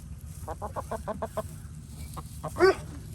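Farm hens cluck in a short rhythmic run of about eight quick calls, then a few more, ending in a louder squawk, heard fairly close over a steady low background rumble.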